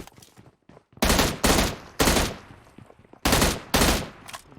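Gunfire in PUBG Mobile on the Livik map: loud, close bursts of automatic fire in several separate volleys over faint background sound, with no talking.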